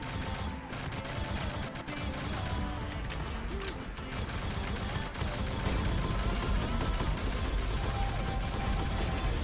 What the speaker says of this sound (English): Freaking sentry gun,